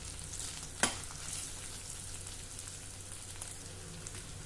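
Onions frying with ginger-garlic paste in oil for a dhaba-style tomato egg curry hiss faintly and evenly, with one sharp clink early on and no voices.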